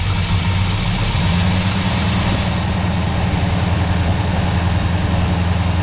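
A 1970 Dodge Charger engine, with a swapped torque converter, runs loud and close throughout with a deep, rough rumble. A mild rise in revs comes partway through, then it settles back to a steady, throbbing idle.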